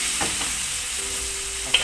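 Water poured into a pan where pumpkin and chicken are cooking in oil, giving a steady broadband sizzle and bubbling hiss throughout with a brief sharp clink near the end, no voices.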